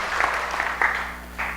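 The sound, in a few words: church congregation applause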